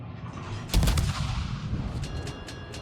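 Ship guns fire in a naval combat video game, one loud booming salvo followed by a rumbling tail and a few sharper cracks at a distance.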